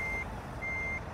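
Reversing beeps from a truck or large bus in a Brazilian driving simulator game, two steady high tones sounding alone over a constant low engine rumble.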